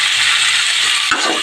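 Cut shim beans and potatoes dropped into hot oil tempered with radhuni seeds, a steady loud hiss of frying with a brief clunk near the end, no voices.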